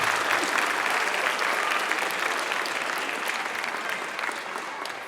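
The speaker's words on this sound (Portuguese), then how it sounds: "Vamos dar uma outra salva de palmas agora para o pastor e para nós também" Audience at a theological gathering in an Adventist church applauding for a pastor, sustained dense clapping that starts strong and slowly tapers over five seconds.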